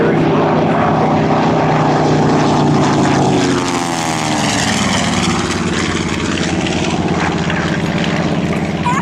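A TBM Avenger propeller aircraft at an airshow drones loud and steady as it passes, the engine's pitch sliding downward midway while the roar stays close and continuous.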